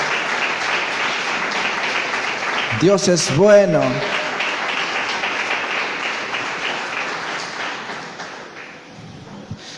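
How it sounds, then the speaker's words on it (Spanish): Congregation applauding at a church service, a sustained bed of many hands clapping throughout while a voice speaks briefly over it. "Dale un fuerte aplauso a nuestro Dios. Aplaudile ahí en tu casa también."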